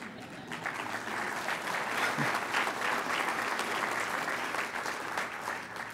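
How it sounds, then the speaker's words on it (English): Sustained applause from an audience at an annual awards luncheon, a steady dense clapping that holds at even loudness for several seconds with a faint murmur of crowd underneath. "That's one way to get a round of applause"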